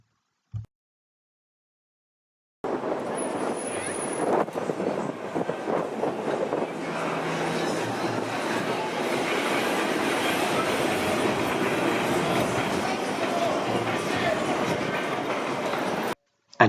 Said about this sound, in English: we are very lucky to be able to see this heritage tram that Blackpool Transport have sent out